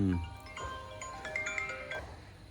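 A phone ringtone plays a short electronic melody of bright, stepping notes over a low background hum, moderately distant.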